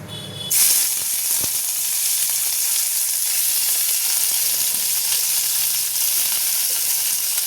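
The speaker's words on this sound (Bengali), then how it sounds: "আলু কুমড়ো ভাজা হলো, এবার শুটকি মাছটা একটু ভেজে রাখবো।" Dried fish (shutki) hits a hot oiled pan after potato and pumpkin have been fried, bursting into a loud, dense, continuous sizzle that holds steady throughout, close up and with no voices.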